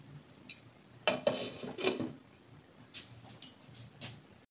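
A metal lid clanks onto a cooking pot of tomatoes, a few close, sharp clinks and rattles followed by lighter taps as it settles.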